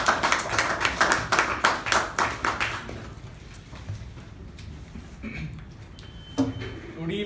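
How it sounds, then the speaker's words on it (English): A Toastmasters meeting audience claps for the general evaluator: a quick run of close, sharp hand claps for about three seconds, then dying away into quiet room noise with faint scattered sounds. "With a big round of applause, please give it up for our general evaluator"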